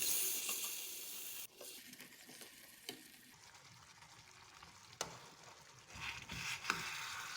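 Whole eggs simmer in a Tamil-style broken-egg curry (udaitha muttai kuzhambu) and are flipped in the pan: a steady soft sizzle and bubbling with a few brief scrapes and clanks as the eggs are turned.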